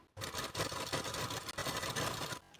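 Sewing machine running steadily as it stitches a double top-stitch line on a size 38 blouse, a continuous close whirring hum that stops briefly midway before resuming, with no talking.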